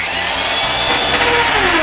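A battery-operated drill fitted with a very thin bit boring a pilot hole into the wood of a canvas frame, a loud, steady whine close by without a break.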